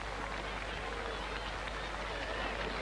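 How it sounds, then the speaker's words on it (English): Polite applause from a 1960s cricket crowd greeting Boycott's fifty, a steady, distant patter of clapping under broad ground noise with no strong peaks. "Polite applause only, perhaps the crowd haven't quite noticed 50."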